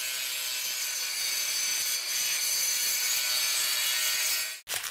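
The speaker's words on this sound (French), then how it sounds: "Reste à suivre le guidage avec une meuleuse d'angle équipée d'un disque diamanté." An angle grinder with a diamond disc cuts mosaic wall tile, a steady, close, harsh grinding hiss that holds for nearly five seconds before cutting off abruptly.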